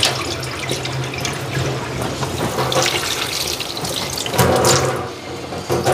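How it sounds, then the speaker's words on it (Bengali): Water splashes and gurgles steadily as it is poured off washed ridge gourd and potatoes in a home kitchen, a close continuous stream that swells briefly near the end. "এই যে ঝিঙ্গা আর আলু ধুইয়া রাখছিলাম, জলটা ফালাইয়া রাখি।"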